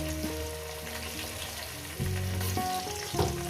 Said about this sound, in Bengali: আলুটা ভেজে নিয়েই ফিরছি